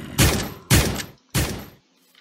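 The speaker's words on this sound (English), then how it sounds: "this is how it sounds when you shoot it" Three loud gunshots from a firearm in the Crafting Dead Minecraft mod pack, evenly spaced about half a second apart, each a sharp blast with a short fading tail, followed by quiet.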